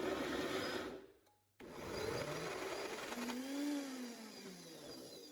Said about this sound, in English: I made my blender struggle a bit, but it's alright.